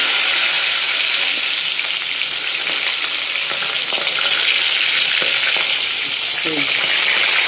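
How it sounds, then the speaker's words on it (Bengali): Whole pointed gourds (potol) fry loudly in a pan, a dense, close sizzle and hiss running throughout with occasional stirring scrapes and no talk. "পটল ভাজাটা বসালাম।"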